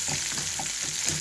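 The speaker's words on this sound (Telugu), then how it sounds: "శనగపప్పు, పెసరపప్పు వేస్తున్నాను." Chana dal and moong dal frying in hot oil, a dense, continuous close sizzle with light stirring movements, no talking.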